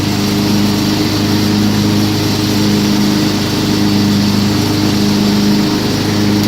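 Craftsman 42-inch riding lawn mower mowing with its blades engaged, a steady loud engine drone with a constant low hum running throughout, no talking.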